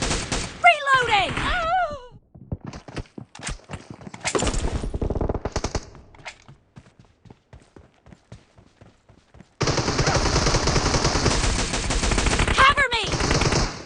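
Automatic rifle fire in a PUBG team deathmatch, loud rapid bursts in several volleys separated by short pauses, with a long sustained stream of shots near the end and brief in-game voice callouts over it.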